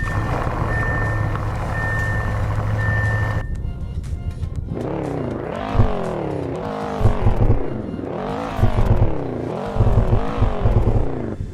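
A German performance car in a Roblox game: a steady electronic beeping tone first, then the synthesized engine revs up and down in several repeated sweeps, loud and close.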